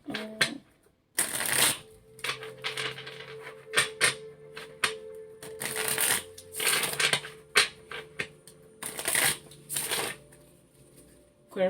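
Tarot cards shuffled by hand: loud, close riffling bursts repeat in uneven waves over a steady low background tone.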